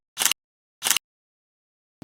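Camera shutter firing three times, each a crisp, close mechanical snap about 0.6 seconds apart, alone against silence, with the last one cut off at the end.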